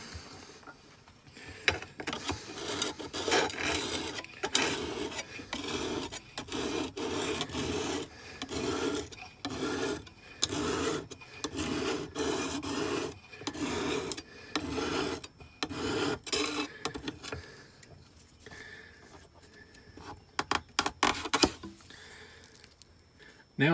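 An ulu knife blade is sharpened on a medium-grit stone, with repeated rasping strokes in a steady back-and-forth rhythm, close and fairly loud, pausing near the end before a few quicker strokes.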